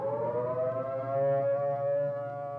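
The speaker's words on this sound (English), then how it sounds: "The attack warning signal is a 3 to 5 minute wavering sound on the" A civil defense attack warning siren wails in a steady, wavering tone, loud and sustained throughout with no voices, as in a vintage nuclear attack preparedness film.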